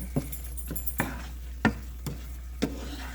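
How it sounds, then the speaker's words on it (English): A utensil stirring vegetables in a cooking pan, five or six sharp scraping taps spaced unevenly over a faint background sizzle, close and quiet. "I like to stir it up first"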